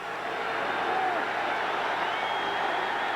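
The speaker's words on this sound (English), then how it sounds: "Crowd starting to come to life. I'm not sure if it's life or it's booing of Hogaboom." Football stadium crowd at a Packers–Cowboys game stirring into a steady, broad roar that may be booing, continuous and fairly loud throughout with no clear breaks.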